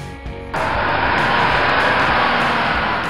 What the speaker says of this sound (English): Semi truck.